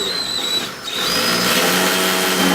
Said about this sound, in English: I'll start and I'll drill about halfway through on one side